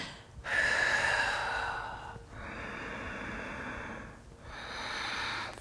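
Deep breaths during a yoga twist: a long, airy inhale followed by slower breathy exhales, close and steady, with no talking over them.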